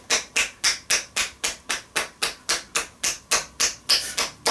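Hand percussion massage tapping with spread fingers slapping against the neighbouring finger, giving about seventeen sharp, loud claps in a steady fast rhythm, close by and alone.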